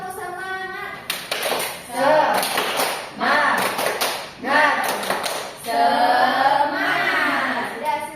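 A school class claps together in a rhythmic spirit-clapping chant, with sharp bursts of claps grouped in a repeating pattern and voices chanting between and over them.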